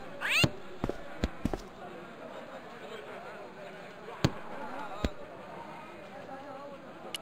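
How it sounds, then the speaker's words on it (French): A cat in an adventure video game meows several times, with sharp bangs and thumps scattered through the scene. A narrator's voice runs underneath. "Le chat était une horrible bête qui semblait être maître des lieux."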